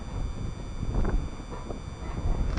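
Wind buffets the microphone outdoors at an apiary, a steady low rumbling roar with gusty swells throughout.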